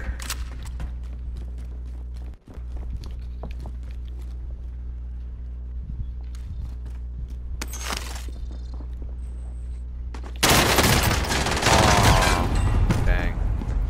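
Gunfire in Warzone, sparse faint shots over a steady low background hum, then a loud dense fusillade breaking out near the end, with some voices now and then.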